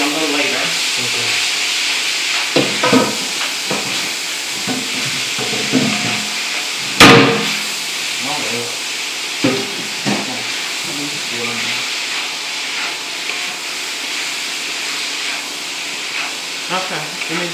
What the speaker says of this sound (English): And let it stir fry with the pork.